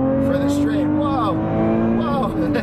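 Lotus Evora 400 mid-engine sports car accelerating hard onto a straight, a loud continuous engine note with rising harmonics that climb through the gears, heard from inside the car close up, with excited voices reacting over it.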